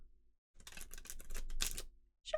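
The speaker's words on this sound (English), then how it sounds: "I'm just doing a riffle shuffle." A deck of playing cards is riffle shuffled up close, giving a quick run of dense, crisp flutters and ending in a short bridge riffle.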